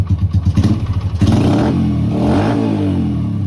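A motorcycle engine chugs close up, then revs hard into a loud rising roar that holds and swells, with no talk.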